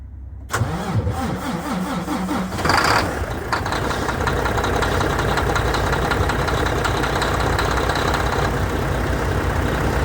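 A truck engine cranks briefly and catches in cold weather, then settles into a steady, rumbling idle with a faint knock, close and loud, running alone for nearly ten seconds.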